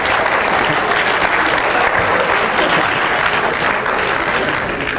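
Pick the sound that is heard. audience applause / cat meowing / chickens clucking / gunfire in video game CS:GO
audience applause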